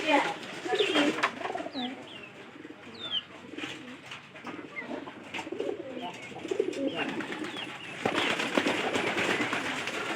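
Pigeons coo softly at close range in a loft, repeated throaty rolling calls over a busy background of shuffling and rustling, with a louder burst of noise late on.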